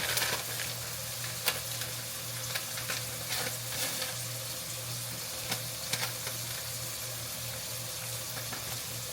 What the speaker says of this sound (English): I want to actually stir this up instead of clumps everywhere